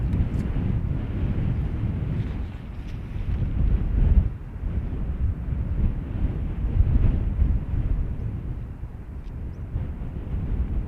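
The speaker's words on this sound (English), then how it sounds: "Breeze going mad, look." Strong gusty wind roars steadily across an outdoor microphone at an airport, the low buffeting rising and falling in surges with no voices.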